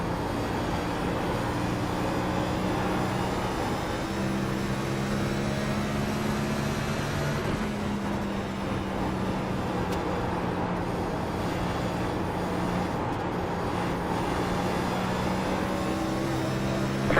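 Race car engines drone steadily at Dover Motor Speedway in the oval racing game All American Racing League, a loud continuous roar with shifting pitch as other cars run alongside, never letting up; no one speaks.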